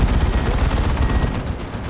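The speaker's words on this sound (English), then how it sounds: "Big zap gun shot from the battle wagon" Heavy zap gun fire from an Ork battle wagon during a Dawn of War 2 3v3 battle, a dense continuous roar of booming blasts and crackling impacts with no pauses, loud and close throughout.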